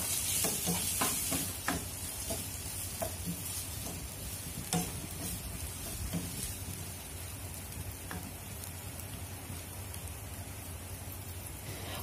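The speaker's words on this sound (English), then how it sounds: "While the tomatoes and pumpkin are cooking" Tomatoes and pumpkin fry in a pan for dry fish fried rice, giving a steady, close sizzle with scattered clicks and scrapes from stirring, and no talk throughout.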